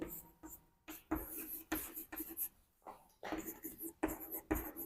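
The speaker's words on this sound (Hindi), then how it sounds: "चलिए आइए हम लोग लिखते हैं।" Chalk or marker strokes on a classroom board come in short, close scratchy bursts with brief pauses between them, quiet and unaccompanied by talk.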